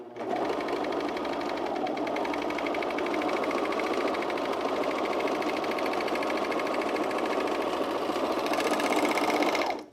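A sewing machine stitches men's jeans in one unbroken run of nearly ten seconds, a close, even mechanical whir with a fast rhythmic needle chatter and no voices.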